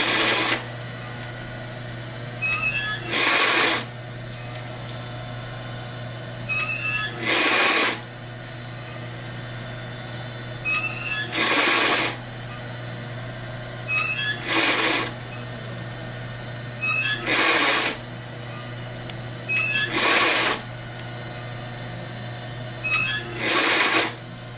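A sewing machine stitches a barrel bag in repeated short bursts, each lasting about a second with brief pauses between, a steady low hum running underneath the whole time.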